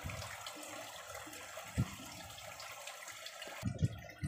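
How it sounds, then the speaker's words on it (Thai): Water from a SOBO FG-1904 four-layer aquarium filter outlet spills down like a small waterfall, a steady close splashing wash with a few louder sloshes. "จะเป็นน้ำพุแบบนี้ครับ นะครับจะเป็นน้ำตกนะครับ"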